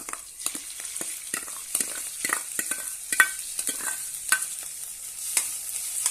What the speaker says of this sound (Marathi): आता यामध्ये ही डाळ घालूया